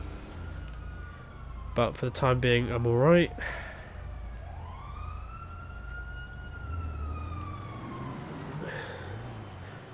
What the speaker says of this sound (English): So the sirens around and about implies that the hunters are up to something.